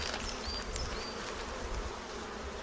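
Honey bees buzz densely in a crowded hive box with some brood, a continuous close drone with a few higher whining passes overhead, steady in loudness and without talk.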